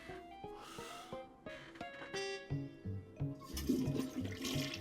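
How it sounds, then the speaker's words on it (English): Cartoon toilet flush in the adventure video game Day of the Tentacle: a rising watery rush and gurgle that swells loudly over the second half, following a stretch of plinking game music and effects. "You really flushed them. Yes. Down the toilet."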